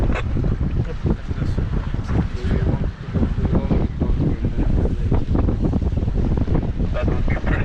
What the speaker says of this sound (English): The only wind.